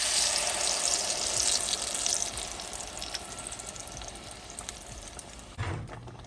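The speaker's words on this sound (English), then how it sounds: "I'm going to add it back into the pan that I used to fry the tortillas" Blended chilaquiles sauce sizzles and spatters steadily in a hot pan with a little leftover oil from frying tortillas, a bright crackling hiss that fades slightly, ending with a brief clatter.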